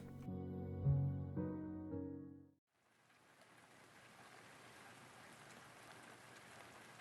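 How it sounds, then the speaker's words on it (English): Steady, heavy rain pours in an Arknights story scene set in an uninhabited area near a ship. It hisses continuously after a brief musical passage cuts off. "The rain seems to be getting heavier."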